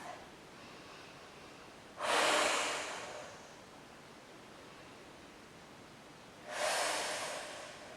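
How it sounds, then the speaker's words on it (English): Two deep breaths during a restorative yoga flow, each a broad airy rush lasting about a second and a half, several seconds apart, close and soft over quiet room noise. "Big breath."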